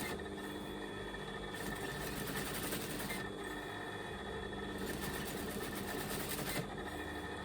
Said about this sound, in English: I can actually feel that the overlocking is going in the right direction that it needs to be.